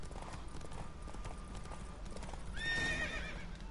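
In The Witcher 3 video game, a horse gallops in a race with steady clip-clop hoofbeats throughout, then lets out a loud, rising neigh near the end, set against soft game ambience.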